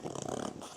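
A small dog snorts and snuffles in rapid bursts while licking and eating anti-itch cream spread on its paw, close and moderately loud, with no talk.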